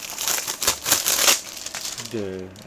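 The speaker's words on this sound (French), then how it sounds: "Donc je vais le déballer, je vais vous montrer le contenu" Plastic wrap comes off a TV series DVD box set with close, rustling crinkles and crackles, followed by a brief voice at the end.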